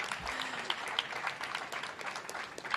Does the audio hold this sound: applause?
yes